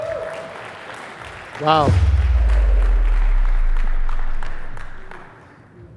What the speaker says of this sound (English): give a round of applause to Dennis Doomen.